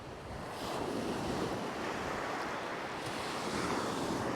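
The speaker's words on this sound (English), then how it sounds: "Quite a strong wind from the right" Strong wind at the seaside while fishing, a constant broadband rush of gusts buffeting the microphone with surf behind it, steady throughout and with no voices.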